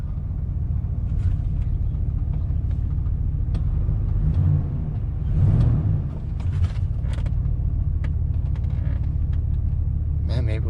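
A surplus Chevrolet Suburban engine idles in drive with a steady low rumble, mechanical creaks and clunks rising briefly mid-way while people talk nearby.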